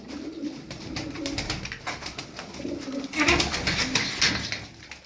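Hungry pigeons, a flock of thirteen birds, coo repeatedly and close by while feeding, with soft rustling and pecking under the calls and a brief murmur of speech.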